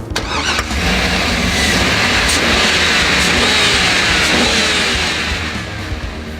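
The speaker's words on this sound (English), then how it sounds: "the H2 employs GM's silky smooth 6-litre V8 that's married to an equally smooth 4-speed automatic transmission" A Hummer H2 with a GM 6-litre V8 and 4-speed automatic drives past, its engine a loud, continuous smooth roar that rises and then eases slightly toward the end, with no voices.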